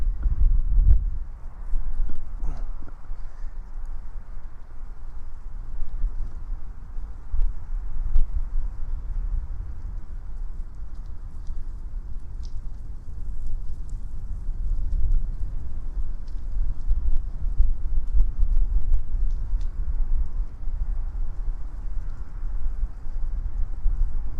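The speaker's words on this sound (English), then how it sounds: "Miniature horse or a miniature pony." Small miniature horse hooves clip-clop steadily on the ground, fairly faint, under a constant low wind rumble.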